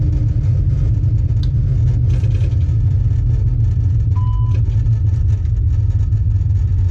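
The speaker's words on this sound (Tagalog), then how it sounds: "Antayin natin mag-spool down yung makina." Aircraft engines wind down after shutdown, heard as a steady low rumbling drone, with a brief faint tone partway through.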